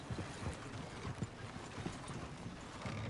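Horse hooves clip-clopping in Red Dead Redemption 2, a steady run of soft thuds that stays close and even for the whole stretch, with a faint whinny and no talk over it.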